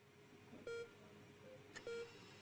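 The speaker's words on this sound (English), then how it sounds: "A rhythmic beeping of a heart monitor brings you slowly back to consciousness." In the video game Not For Broadcast, a heart monitor gives faint, evenly spaced electronic beeps, three short tones over a quiet background hum.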